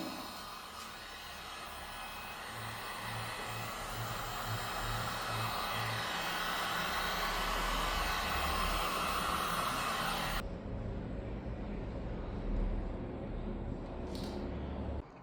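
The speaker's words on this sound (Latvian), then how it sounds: "Tā, un tagad ar fēniņu." A hair dryer blows on freshly poured filler during an apartment renovation, a loud continuous whooshing drone that holds steady, then drops to a thinner, quieter tone partway through.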